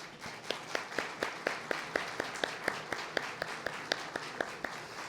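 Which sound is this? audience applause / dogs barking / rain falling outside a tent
audience applause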